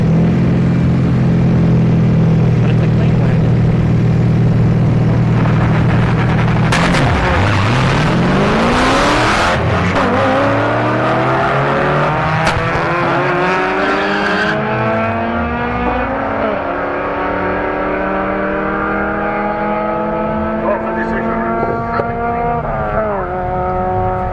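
Drag race at Orlando Speed World between a turbocharged BMW and a naturally aspirated Honda Civic wagon: a steady loud engine drone, then a sharp launch with rising, overlapping engine notes revving up through the gears, close and loud, with no talking.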